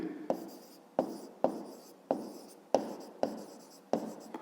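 Close handwriting on paper during a maths exercise, seven distinct tapping strokes and scratches spaced about half a second apart, each fading quickly, with no talk.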